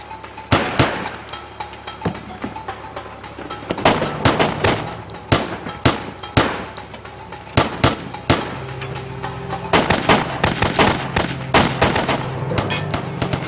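Gunfire in a film scene where a bodyguard is shot and Escobar is cornered: loud, sharp shots in irregular bursts and rapid volleys, some isolated and some clustered, over a low background rumble, with no talking.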